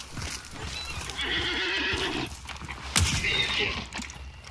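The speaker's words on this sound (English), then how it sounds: "we gotta shut this horse up too." Horse in the Hunt: Showdown video game whinnying loudly and shrilly in two long calls, with hoof clops and a dog panting nearby in the game's ambience.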